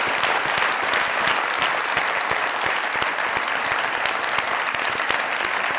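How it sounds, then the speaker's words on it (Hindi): Studio audience applause at a Pakistani comedy talk show, a steady dense wash of many hands clapping throughout, loud and close with no talk over it. "हुस्न के लिए ताली।"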